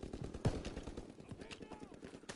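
Rapid automatic weapon fire in the game Call of Duty WW2, with quick, evenly spaced shots rattling steadily at low volume and one heavier blast near the start, while a voice speaks over it.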